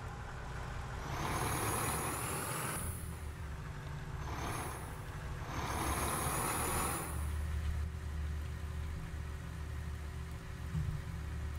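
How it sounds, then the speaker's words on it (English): A car in the firefighting video game EmergeNYC rolls past, a steady engine and road rumble that swells twice with bright hissing brake-like bursts, then fades to low background hum. "At least we will once this car gets by."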